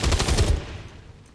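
Rapid automatic gunfire from a co-op shooter video game, a dense burst of loud shots for about half a second that then trails off into a fading rumble.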